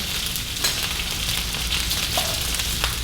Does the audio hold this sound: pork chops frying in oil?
yes